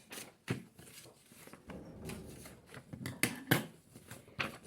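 Scissors cut a sheet of paper, giving several sharp snips and rustles spaced irregularly, close and fairly quiet, with no talking.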